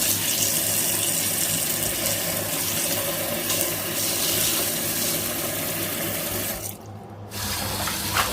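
Cold tap water runs loudly and steadily over dandelion greens being washed for pickling, briefly dipping partway through as the flow is interrupted.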